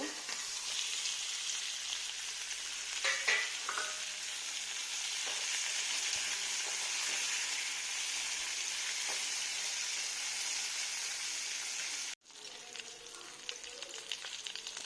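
Fish fries in oil together with onions and green chillies, a loud continuous sizzle with occasional stirring clatter; it cuts out sharply near the end, then returns more quietly.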